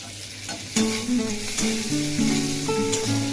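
Ginger paste and red chilli dropped into hot oil for a potato and pointed gourd korma, a bright sizzle with spatula scrapes, joined by steady tonal music-like hums in the background, no speech.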